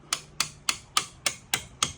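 A part on a 1988 Honda Magna 750 motorcycle is struck with a hammer: seven sharp, evenly spaced metallic blows about a quarter second apart, close and clear, with no talking.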